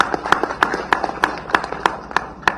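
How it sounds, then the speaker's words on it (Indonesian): Applause for the head of Indonesia's National Narcotics Agency (BNN) at an event about a foiled two-ton methamphetamine smuggling bust: a small group claps in a steady, evenly spaced rhythm, fairly close and clear. "kita tepuk tangan untuk Kepala BNN"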